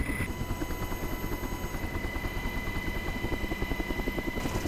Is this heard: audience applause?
no